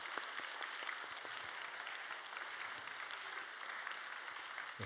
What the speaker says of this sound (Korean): 우리 자리에서 일어날 때 축복의 박수를